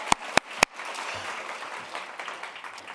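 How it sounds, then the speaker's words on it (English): An audience applauds after a talk in a hall, with three sharp, loud claps up front followed by a softer, steady patter of crowd noise. "let's give him a hand clap"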